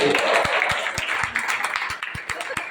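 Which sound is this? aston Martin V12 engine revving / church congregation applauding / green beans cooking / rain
church congregation applauding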